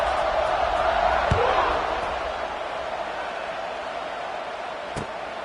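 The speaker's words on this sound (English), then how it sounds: "this crowd is buzzing after that last score" A football stadium crowd buzzes with a broad, loud roar that swells and then settles into a steady hum, with a couple of sharp thuds, while a commentator talks over it.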